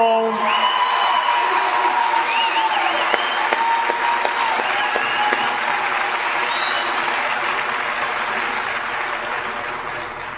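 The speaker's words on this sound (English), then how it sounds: "I would like everybody to give a huge round of applause to one of the finest United States senators that we have, Evan Bayh" A large crowd at an Elkhart, Indiana rally applauds for Senator Evan Bayh, with steady loud clapping, scattered whoops and cheers over about ten seconds, slowly tapering toward the end.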